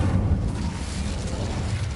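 Incendio fire spell cast in Hogwarts Legacy, a low, rumbling whoosh of flame with booming body that holds steady for about two seconds, fairly loud with no voices over it.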